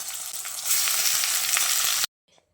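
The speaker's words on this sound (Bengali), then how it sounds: "এবার গ্যাসের ফ্লেমটাকে হাইতে করে চিকেনটাকে বেশ ভালো করে ভেজে নিতে হবে" Chicken frying in hot oil in a pan gives a loud, steady sizzle that swells as the pieces hit the oil, then cuts off abruptly into near silence.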